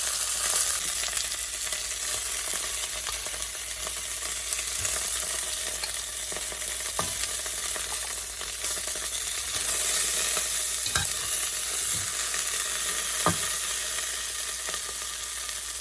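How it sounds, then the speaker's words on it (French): Chicken drumsticks fry in oil until golden, a continuous close crackling sizzle with scattered sharp pops and light clinks, no voices over it. "on attend que nos pilons soient bien dorés"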